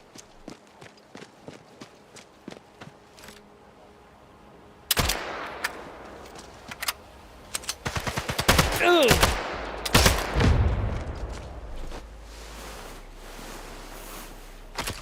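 Machine gun fire in the video game Sniper Elite Resistance: faint scattered shots give way to loud, dense automatic bursts and explosive cracks, with layered game effects and footsteps in the mix.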